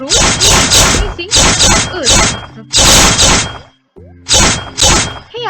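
Slicing effects from a Scratch-made Fruit Ninja game, loud bursty swishes and splats in quick clusters with brief gaps, while a voice talks over the gameplay.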